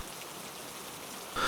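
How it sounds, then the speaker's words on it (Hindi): Heavy rain pours down at night in a horror cartoon, a steady close hiss of drops that swells louder near the end, with no voices. "इस बारिश में निकलना भी ठीक नहीं है"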